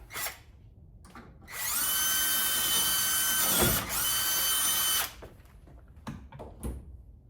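A power drill spins up and whirs steadily for a few seconds enlarging a hole for a hood prop rod in a car, briefly dips, then stops, followed by faint clicks and handling sounds.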